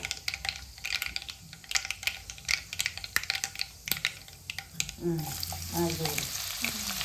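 Cumin and mustard seeds, then chopped onion, frying in hot oil for a North Karnataka eggplant palya, with steady sizzling and crackling punctuated by sharp popping ticks and stirring scrapes, growing louder and hissier as the onion goes in; no one talks.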